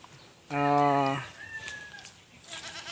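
A young goat gives one loud, close bleat of about half a second, a strong buzzing cry with a slight waver, followed by faint farm background noise and a thin short squeak.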